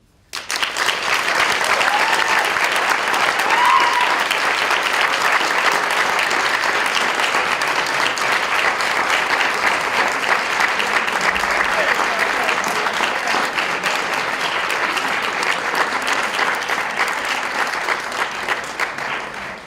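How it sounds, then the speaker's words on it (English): An audience at a conference event gives a long, steady round of applause for its speakers, dense and sustained from start to finish, with some voices faintly mixed in. "One more big round of applause for all of our speakers."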